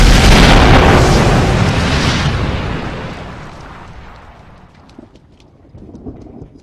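Movie explosion effects from Captain America: The First Avenger, a loud deep booming blast that rolls and slowly fades over several seconds, leaving quieter crackling debris at the end.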